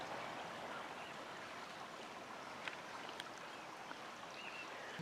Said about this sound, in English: And here's the creek down here.